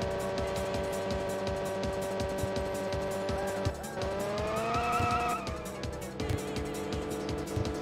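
Race car engine in the Wii racing game GT Pro Series, a loud steady high-pitched drone that rises in pitch mid-clip and then drops back, with tire squeal over it.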